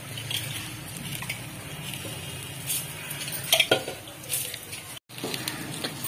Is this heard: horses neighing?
no